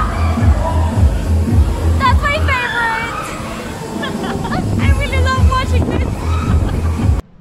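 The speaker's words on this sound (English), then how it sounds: "It's very windy today, so I hope that the sound is good." Strong wind buffets a microphone outdoors, giving steady low-frequency rumble throughout, with voices talking over it before the noise cuts off at the end.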